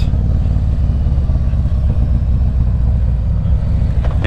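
A 2020 Harley-Davidson Street Glide CVO motorcycle on the move, its engine giving a loud, steady low rumble with constant wind and road noise, heard close up without any talking.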